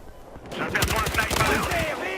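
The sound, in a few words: gunfire in Battlefield Hardline video game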